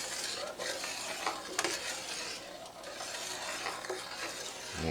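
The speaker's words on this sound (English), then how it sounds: "And you stir that until it comes back to a boil." Redbud jelly with Sure Gel pectin in a pot is stirred steadily. Soft, continuous scraping and swishing sounds are close but quiet over a faint bubbling hiss, with an occasional light clink and no voices.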